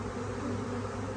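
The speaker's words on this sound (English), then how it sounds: "I've seen lots of bees enter the hive. There's some fanning going on here occasionally" Honeybees buzz and fan at a hive in a steady, close, low hum that holds without a break through the short moment.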